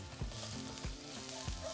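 Half an onion cut into strips sizzling in hot oil in a pan for rajas con queso, a steady hiss with a few stirring scrapes, close and moderately loud.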